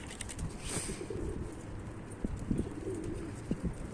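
Pigeons in a loft give soft cooing calls, with a few low coos standing out near the end over a muffled background of fluttering and rustling.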